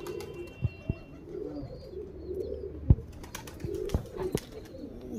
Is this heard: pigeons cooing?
yes